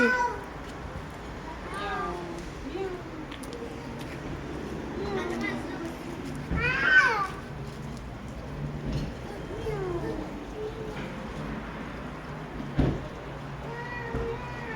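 Street cats meowing outdoors in Turkey, a few plaintive mews scattered among people talking nearby, with one louder cry standing out midway.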